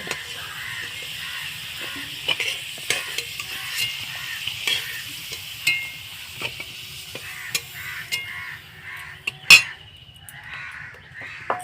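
Potatoes frying in oil in a home kitchen, a continuous crackling sizzle with scattered pops and a few stirring clinks, close and without talk.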